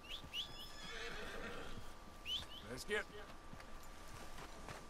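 In Red Dead Redemption 2, a horse whinnies in short, high calls and its hooves clip-clop at a walk, quietly, while someone says a few words.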